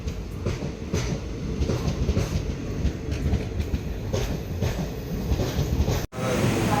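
A train departing Palakkad for Shoranur Junction in Kerala rumbles along with a steady clatter of wheels on rails, loud and close, briefly cut off near the end before the rumble returns.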